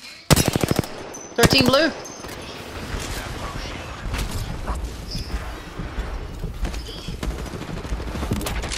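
Rapid bursts of automatic gunfire in the shooter game Apex Legends crackle close and loud early on, followed by scattered, quieter shots and game effects under a player's brief talk.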